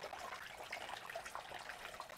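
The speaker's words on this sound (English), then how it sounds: "Make sure that your water is running." Water runs steadily in a catfish hatchery tank, giving a soft, continuous trickling flow with faint bubbling throughout, low in level and heard alone without voices.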